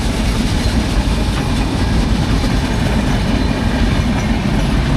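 A train rumbles steadily past close by, loud and continuous, with a low rolling roar and faint rhythmic clatter of wheels on track.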